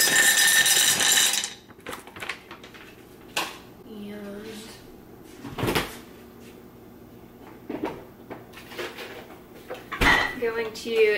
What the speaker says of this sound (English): I'm going to put in the frozen cranberries into this little